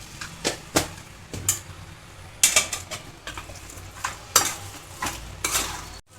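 Mutton for a drumstick curry is stirred in a hot pan, producing a series of scraping, clattering strokes of a spoon against metal over a low, soft sizzle, close and irregular in rhythm.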